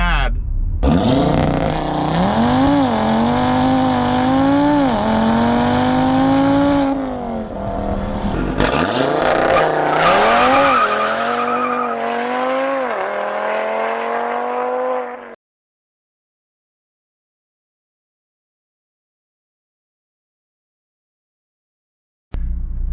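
A stock turbo Audi RS3 with a Unitronic tune launches hard with a loud, rising, rapidly shifting engine roar and whine, a brief dip, a second surge and then a sudden cutoff into silence.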